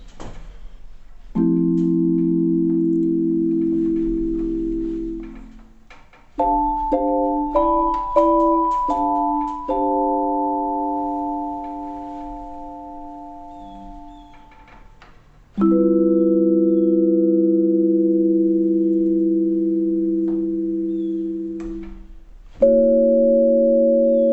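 Sustained five-note chords ring out one after another, each held for several seconds with a smooth electronic-keyboard tone and no voices.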